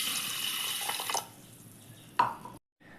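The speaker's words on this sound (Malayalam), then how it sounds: "നമ്മൾ അതിലേക്ക് പാകത്തിന് വെള്ളം ചേർക്കാം" Water running into a metal pressure cooker from a tap for about a second, then a few drips and a clink, close by, before going quiet.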